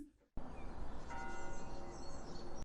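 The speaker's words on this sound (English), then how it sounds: "it's like a distant bell, some birds in the back" A far-off church bell tolls over a steady outdoor wash of ambience, with faint birdsong chirping in the background.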